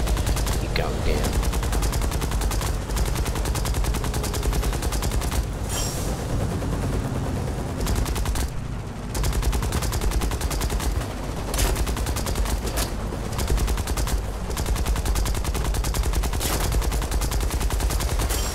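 Dense, continuous machine-gun and cannon fire rattles through an aerial battle in the War Thunder combat game, loud rapid bursts with only a brief pause midway, while someone talks excitedly over the shooting.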